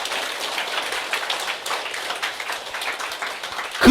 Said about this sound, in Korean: 맞다고 생각하시는 분만 박수 여러분